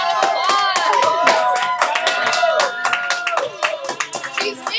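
A high-school algebra class claps for a student named Rebecca as she comes up, with dense, lively applause, whoops and voices mixed in that thin out toward the end.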